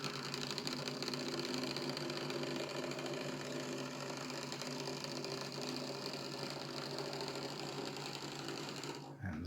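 Lima Class 31 OO gauge model diesel locomotive in Regional Railways livery runs on track at slow speed, a continuous close motor whir with a buzzy, slightly juddering hum lasting about nine seconds before stopping abruptly.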